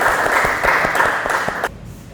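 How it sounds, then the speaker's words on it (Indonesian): Classroom applause from a group of students, brisk and fairly loud clapping that holds steady for under two seconds and then cuts off abruptly into quiet room tone. "Kita berikan tepuk tangan yang meriah dulu."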